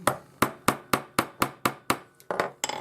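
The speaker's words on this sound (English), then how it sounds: "few taps on that side, turn it over. We just want to set the rivet" Hammer taps setting a rivet on a hinged ring at a jeweller's bench: about ten sharp, evenly spaced metallic strikes, close and clear, with a slightly quicker cluster at the end and no voices.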